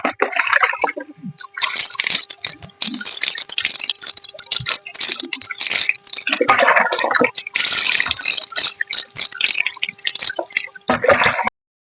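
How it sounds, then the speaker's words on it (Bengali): Water from an outdoor tap splashing and pattering while hair is rinsed, a close, busy wet stream of splashes and drips with brief breaks, and a few faint voices underneath. "এক ঘন্টা বাদে কলপারে চলে এসছি এরপর ধুয়ে নেব"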